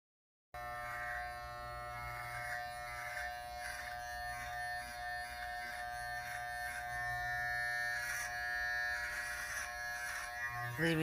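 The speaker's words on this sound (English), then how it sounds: "some people like hearing the sound of the razor." Electric clippers trim a man's beard at home, a steady close electric buzz that runs continuously with slight changes in pitch and load as the blades move through the hair, with no talking.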